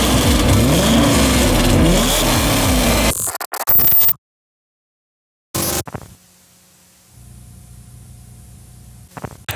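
LS3 V8 car engine with an all-titanium exhaust, heard loud and close as a dense roaring rev for about three seconds, then abrupt cuts, a brief blip, and a quieter low rumble toward the end.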